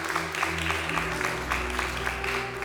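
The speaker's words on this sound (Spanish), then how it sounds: "Dale un aplauso al Señor." Congregation applauding during a church sermon, a moderate wash of clapping over a sustained low organ or keyboard chord that shifts midway.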